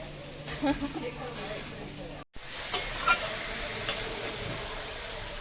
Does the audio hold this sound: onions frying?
yes